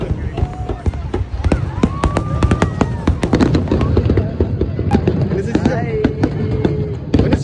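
Fireworks at a UAE National Day celebration at Etihad Arena in Abu Dhabi, with rapid crackling bursts and whistling rockets going off continuously while a crowd murmurs and cheers beneath.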